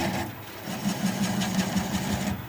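A wood lathe spins a mulberry bowl slowed to about 400 RPM, giving a close, steady low mechanical hum with a fast rhythmic pulsing flutter and no talking.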